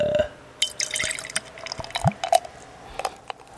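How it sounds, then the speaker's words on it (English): Chocolate stout beer pouring into a glass, with close gurgling glugs, drips and bubbly liquid sounds in irregular bursts. "I'm pouring it into the glass."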